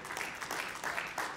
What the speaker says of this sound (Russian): Но я этому нельзя аплодировать.